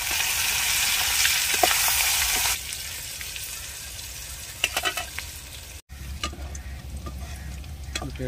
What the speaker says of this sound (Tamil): இப்போ ராலை வந்து சில்லி சிக்கனுக்கு இதை பொரிச்சு எடுத்துறேன்னு எண்ணெயில் போட்டு